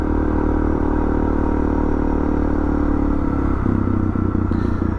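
A Suzuki DR650 motorcycle climbs a dirt trail uphill in hilly country near the Barossa, its engine a loud, steady, close drone with some clattering over several seconds and no talking.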